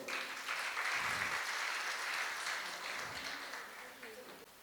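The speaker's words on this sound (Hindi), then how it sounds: "तो एक बार खुद के लिए अच्छे से तालियां हो जाए।" Audience at a talk on women's menstrual health breaks into applause, a fairly faint, steady wash of many hands clapping that slowly tapers off, with a voice briefly under it.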